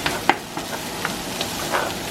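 Butter melts in a pan while broccoli is tossed through it, giving a soft sizzle with a few sharp scraping and clinking stirring strokes at close range.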